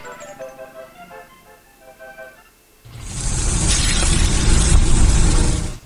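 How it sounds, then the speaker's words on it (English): Dry-aged USDA Prime Wagyu and Angus steaks sizzle loudly in a steady, dense hiss that bursts in abruptly and holds without a break, after some quieter clinking mechanical sounds. "That's the sound of sizzling, dry-aged USDA Prime Wagyu and Angus steaks"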